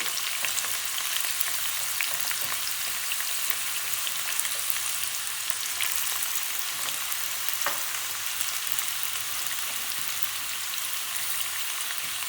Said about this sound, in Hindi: इसलिए मैं कैरेट्स ऐड कर रही हूँ इसमें।